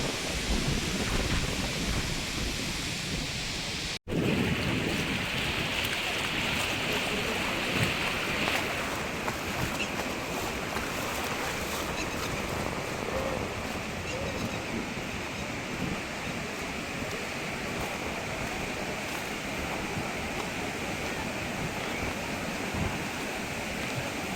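Water rushes over the Andhali dam on the Manganga river in a broad, continuous roar that stays loud and unbroken throughout, with no voices.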